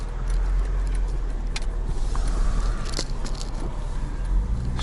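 A Mercedes E55 AMG drives along with a steady low road and engine rumble heard from inside the cabin, joined by a few light rattles and clicks.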